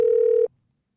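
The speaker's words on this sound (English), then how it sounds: "We're going to go ahead and get Jeff West dialed up here on the phone and talk about Saturday night's drone racing" A single steady telephone tone sounds loudly for about half a second as a phone line is dialed to call a guest, then cuts off to silence.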